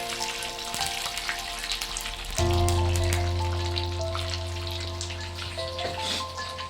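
Cut green chillies and curry leaves dropped into hot oil for a tempering crackle and spit, with the sizzle surging louder partway through and then holding steady under a low hum.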